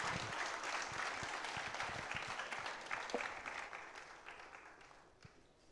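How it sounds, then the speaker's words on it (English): Faint applause from an awards-ceremony audience as presidents take their seats, a soft, steady patter of many hands heard from a distance that slowly fades toward the end. "let's give them a round of applause even as they take their seats"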